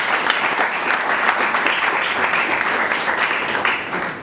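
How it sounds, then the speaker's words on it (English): Steady, dense audience applause at a graduation ceremony, many hands clapping together at full strength throughout. "Can I just ask for another round of applause?"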